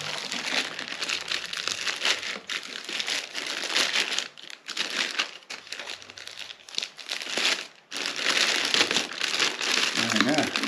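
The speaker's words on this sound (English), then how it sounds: "I don't think there's any way to get into this without ripping the bag" A plastic bag wrapped around a Rega io amplifier is ripped open during unboxing, producing loud, continuous crinkling and tearing with brief pauses.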